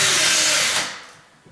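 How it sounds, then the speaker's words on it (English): A power drill fitted with a 1/8 inch bit bores at an angle into a sagging bathroom door, giving a loud, close, high whine that runs briefly and then spins down. "Drilling a hole right up in there and right there at a slight angle."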